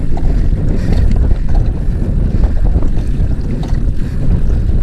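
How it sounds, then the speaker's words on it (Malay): Strong wind buffets the microphone at sea during kayak fishing off Malaysia, a loud, continuous roar with gusting rumble and water noise throughout, no speech. "Angin padu geng, angin padu"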